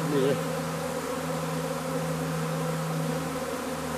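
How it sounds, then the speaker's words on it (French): Dense, steady buzz of many honey bees around a hive during a swarm, close and continuous with a strong low hum throughout. "on lisse tout doucement la plaque sans écraser les abeilles"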